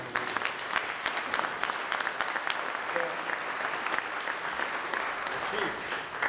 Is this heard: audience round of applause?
yes